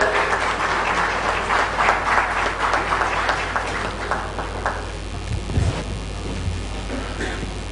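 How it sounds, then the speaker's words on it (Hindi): Audience applause at a smart city award ceremony in Bhopal, a dense round of clapping that is loud at first, then thins and fades over the last few seconds, with a low rumble underneath. "जोरदार ताली बजाकर स्वागत किया जाए।"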